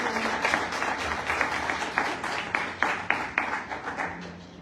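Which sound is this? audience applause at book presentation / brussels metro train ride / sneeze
audience applause at book presentation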